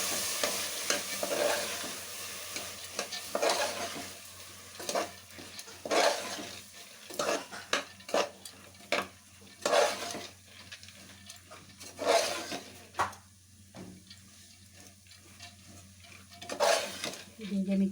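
Soaked green gram stirred in a frying pan for a Kannada-style green gram gravy: repeated scraping strokes of a spoon against the pan over a soft sizzle, coming in irregular bursts, close and moderately loud.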